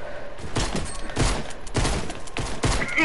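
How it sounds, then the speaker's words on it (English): Pistol gunfire in a video game pistol battle: a rapid series of sharp shots in clusters, loud and close, with bursts spaced irregularly across the moment. "It's a double pistol battle"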